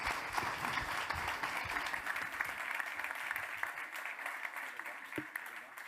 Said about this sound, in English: Can you please give them a beautiful, warm round of applause?